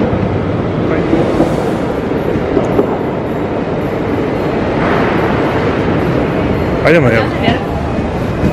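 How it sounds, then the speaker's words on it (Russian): Busy ambience at Amsterdam Central railway station: a steady roar of trains and crowd noise fills the space, with brief squeals and clanks, while people talk nearby in the foreground. "Мы приехали на центральную станцию."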